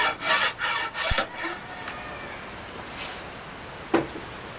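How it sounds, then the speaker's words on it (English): File smoothing scrap wood for a canoe paddle, several close rasping strokes in quick succession followed by a pause and a couple of lighter isolated scrapes. "I'll flip this over and I'll start using this file side"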